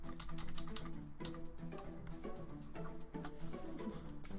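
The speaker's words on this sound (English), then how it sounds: "Gotta love slamming the keyboard." Someone types hard on a computer keyboard, a dense run of loud, close key strikes over steady background music.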